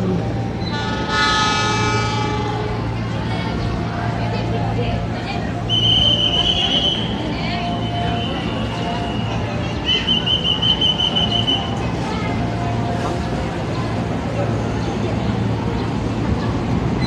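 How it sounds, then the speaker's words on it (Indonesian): A long-distance train hauled by a CC 206 diesel locomotive rumbles past steadily for a long stretch, with a loud horn near the start and sharp squealing wheel tones along the way. "kereta kereta jarak jauh CC 206"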